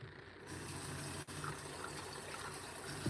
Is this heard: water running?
yes